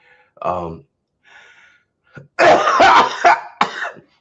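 A woman coughs in a short burst, then gives a softer breath and a small throat noise before a harsh, louder cluster of coughs and throat clearing, close to the listener.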